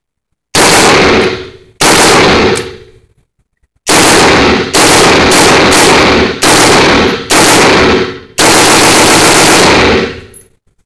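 Full-auto bursts from an automatic rifle, very loud and close, several long rapid-fire strings separated by short silences.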